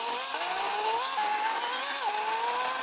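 A battery chainsaw with a chain that cuts well runs through soft birch wood, a steady high whine with slight pitch dips as the chain bites, loud and close, with no other sounds.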